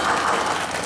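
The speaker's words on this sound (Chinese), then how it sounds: "就来掌声，好欢迎。" An audience at a jazz saxophone studio anniversary concert applauds, a dense, continuous burst of many hands clapping that holds steady for about a second.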